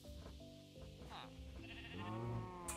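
Sheep bleating in Minecraft, a few short wavering bleats, faint and close, heard over quiet game background sounds.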